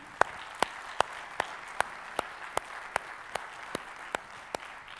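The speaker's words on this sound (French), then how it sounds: "Mesdames et messieurs, je vais vous demander d'applaudir Emmanuel Roux." An audience claps in unison for Emmanuel Roux at a French-speaking gathering, with about a dozen sharp, evenly spaced beats in a steady rhythm over a faint, hushed room background.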